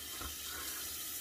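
Water runs steadily over a razor blade at a sink, a close, even rushing flow from a tap that lasts about a second.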